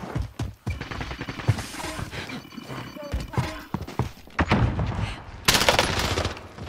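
A video game battle sounds with bursts of gunfire and sharp impacts mixed among busy game effects, and a voice talks over the action.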